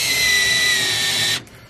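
A cordless power drill with a dying battery whines steadily at close range while driving a roost bar into a garden shed converted to a chicken coop, then stops abruptly with a faint trailing sound.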